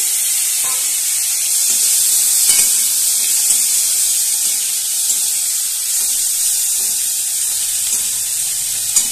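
Chopped tomato dropped into sizzling mung dal and ginger in a hot pan, a steady loud hiss of frying with occasional stirring scrapes close by.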